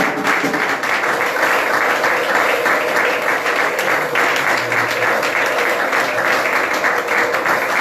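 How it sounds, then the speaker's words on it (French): A church congregation at a Sunday service applauds, with dense, loud, continuous clapping and some cheering voices mixed in throughout. "Acclamons pour Jésus."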